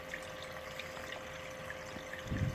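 Water pumped through a gold-prospecting sluice flows and trickles steadily at low volume, with a slightly louder gurgling surge near the end.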